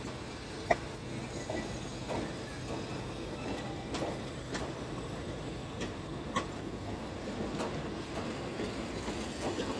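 A GEA diesel locomotive, number 4556, hauling train 313, rushes through the Yommarat rail junction in Bangkok, giving a steady rolling rumble with scattered wheel clacks, close and continuous, with no voices.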